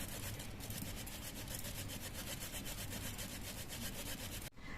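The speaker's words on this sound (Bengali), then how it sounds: "আমি আদাটা ছুলে নিয়েছি ঘুষনি দিয়ে ঘষে সোয়াবিনের মধ্যে দিয়ে দিচ্ছি" Peeled ginger is grated into soybeans on a hand grater, giving a fast, steady rasping that runs throughout at close range before stopping abruptly near the end.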